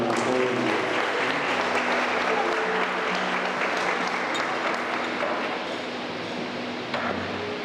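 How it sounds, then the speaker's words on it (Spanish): A church audience applauds the choir with sustained, even clapping that fills the room at moderate loudness, with a faint tonal hum underneath. "Un aplauso para mucha."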